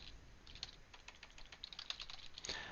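Quick, light keystrokes on a computer keyboard as a command is entered at a command line, a soft irregular patter of clicks heard close and alone.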